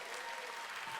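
A church congregation applauds during a Sunday worship service, a dense, steady clapping that stays at a moderate, even level throughout.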